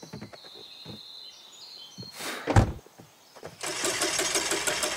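A minivan engine in The Quarry cranks and sputters without catching, with rhythmic starter clatter, a loud grinding burst, then a steady harsh whirring drone.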